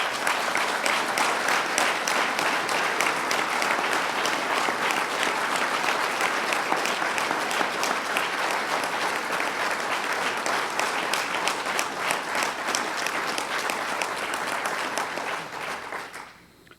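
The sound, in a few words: audience applause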